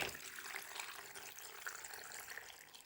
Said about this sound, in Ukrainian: Так, заливаємо нашим розсолом.